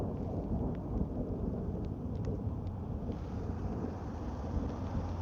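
Deep rolling thunder rumbles continuously, close and heavy, with light rain and some wind buffeting the microphone outdoors at night beside water.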